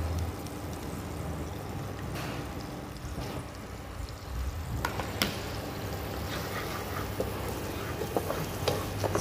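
Garlic sizzles and fries in melted butter in a pan with a steady, close crackle. Scattered clicks and stirring scrapes run over it, and the sizzle grows a little livelier partway through.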